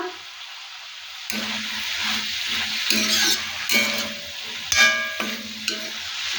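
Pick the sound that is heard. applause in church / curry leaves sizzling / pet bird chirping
curry leaves sizzling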